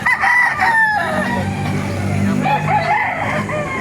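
Roosters crow loudly and nearby at a chicken market in Baliuag, Bulacan, one long rising call followed by clucking fowl amid market murmur.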